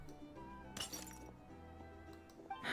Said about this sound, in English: Glass breaking at the door?